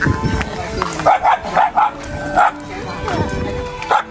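A dog barks in short bursts, several sharp woofs spaced irregularly over steady background noise, with some talking nearby.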